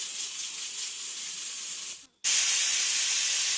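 Pressure cooker on a gas stove cooking vegetable pallav with turmeric, coriander and jaggery lets out a loud, steady hiss of steam from its whistle, with a brief break before the hiss resumes even louder, no talking.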